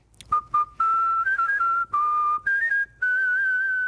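A man whistles the Happy Birthday tune on a street in Washington, D.C., a clear, loud melodic whistle in sustained phrases broken by short pauses, with no talking.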